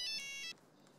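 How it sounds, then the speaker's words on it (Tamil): A telephone rings indoors in a family home, a quiet electronic ringtone of rapid repeating tones that cuts off after about half a second, leaving faint room noise. "ஃபோன் அடிக்குது."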